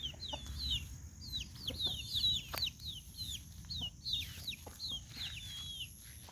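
Chickens clucking and chirping repeatedly nearby, a lively overlapping chatter of short calls over low background rustle.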